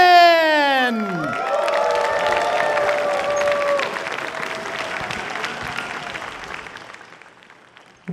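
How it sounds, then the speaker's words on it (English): A large convention crowd at a closing ceremony bursts into applause with whoops and cheers, loud and sustained for several seconds before slowly thinning out. "please give a big round of applause, hoot and holler, for"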